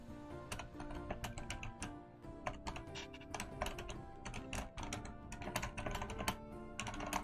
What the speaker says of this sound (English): Alex and Quinn, I'm typing stuff to you.